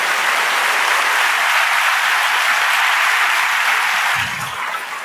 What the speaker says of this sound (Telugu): ఈరోజు మీరు చప్పట్లు కొట్టాలనిపించట్లేదా?